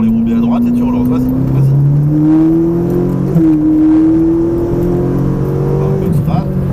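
A Ferrari 458 Italia accelerates out of a corner on the Mettet circuit in Belgium, its engine note climbing loud and close through the gears in a sustained rising whine.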